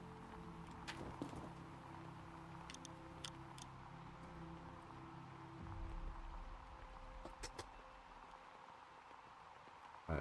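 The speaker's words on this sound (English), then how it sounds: "you can hear rain hitting the tent" Rain taps on a tent in Gold Mining Simulator, faint scattered drops and occasional sharper ticks over a quiet low hum, with a brief rumble in the middle.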